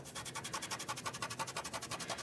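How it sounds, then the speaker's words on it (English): Paper is burnished by hand with a quick, even rubbing rhythm of about eight strokes per second, faint and close, with no talking. "the next thing I'm going to do is I'm going to burnish"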